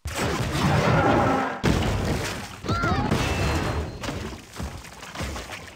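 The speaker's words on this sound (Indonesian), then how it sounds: "Ledakan besar terjadi." A loud, booming explosion in a film, with crashing and rumbling debris as a tower collapses, the roar dipping and surging in waves before trailing off.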